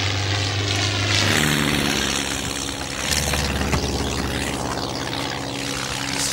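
The Red Baron's low-flying propeller plane drones past in a loud, steady engine roar with a throbbing low rumble, a brief higher whine riding over it and nearby rustling mixed in.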